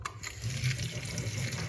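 Water running steadily from a tap while dishes are washed, a continuous close splashing flow lasting the whole moment with no voices.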